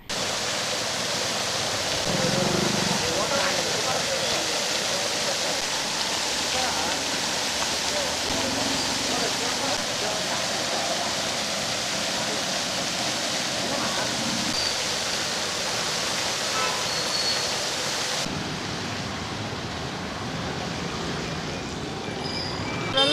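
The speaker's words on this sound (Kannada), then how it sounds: "ಪೈಪ್ ಹೊಡೆದೋ ಇಲ್ಲವೇ ಮತ್ತೊಂದು ಸಮಸ್ಯೆಯಿಂದೋ ನೀರು ಚರಂಡಿಗೆ ಹರಿಯುತ್ತಿದೆ" Water from a broken pipe near an overhead tank connection gushes into a roadside drain, a steady loud broadband rush that holds for about eighteen seconds before thinning out, with faint street traffic in the background.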